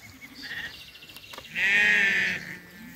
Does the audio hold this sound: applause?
no